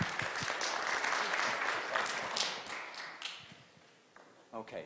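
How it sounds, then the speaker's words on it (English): Applause from an audience at a residency program diversity presentation, a dense wash of clapping that fills the room for several seconds before fading, with brief murmurs and taps near the end. "I think we need to give them a round of applause for that"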